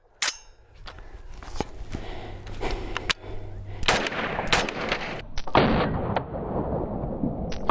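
Rifle firing green tip rounds into a Level IV armor plate: several sharp, loud shots at irregular intervals, each with a bright metallic crack of impact, over a ringing, reverberant outdoor background.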